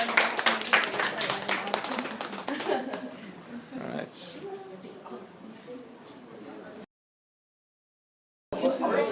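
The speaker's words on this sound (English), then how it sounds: "Give him a round of applause" A class gives a round of applause for a student, a burst of clapping with some chuckles that thins out under continued talking, then a short silence and more talk.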